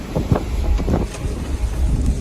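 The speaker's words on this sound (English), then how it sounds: "Hail flying. Giant hail!" Giant baseball-sized hail and wind-driven gusts strike a car during a tornado chase, a continuous loud roar of buffeting wind broken by several sharp thuds of hailstones hitting the body and windows.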